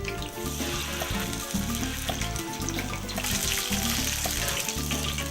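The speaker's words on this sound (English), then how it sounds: "You must batter these as you fry them." Fish dipped in potato starch and batter sizzling loudly in a hot pan, a dense continuous crackle close up with a steady hissing layer throughout.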